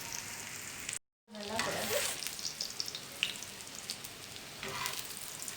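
Beef shami kababs frying in a pan give a close, steady sizzle with light crackles and a brief moment of silence early on, and the frying continues evenly afterward.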